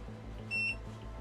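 A single short, high electronic beep from a 20W dual laser engraver sounds once, faint and clean against quiet background hum.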